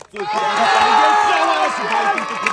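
A village crowd gathered for a winter game cheers and claps for a contestant, a dense burst of shouting voices and applause that rises quickly and holds for a couple of seconds.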